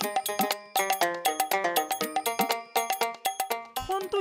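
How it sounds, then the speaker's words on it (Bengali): A phone rings with a repeating electronic tone in quick, bright pulses, loud and close, with no voices over it. "ফোনটো কিয় ৰিচিভ নকৰে"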